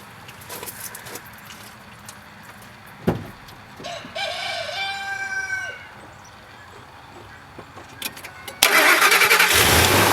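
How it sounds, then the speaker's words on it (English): A 1999 Ford F150 cranks and fires near the end, its engine roaring in loud and steady, while a rooster crows clearly in the background beforehand and small knocks sound around the truck. "So now we're gonna go ahead and start the vehicle."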